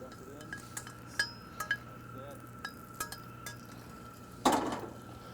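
Browned bear meat goes into a cooking pot in Pelican, Alaska. A few light clinks of a utensil on metal lead to a short, louder clatter and sizzle near the end.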